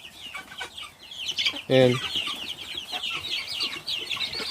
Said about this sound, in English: out here, we got the red broilers